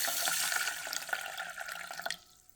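Water pours from a tap over tapioca pearls (sagoo) in a pan, a close splashing trickle with small drips, tapering off abruptly near the end.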